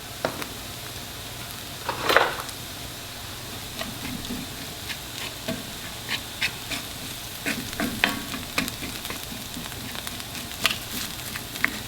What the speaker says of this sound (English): we'll just fry this until golden brown and delicious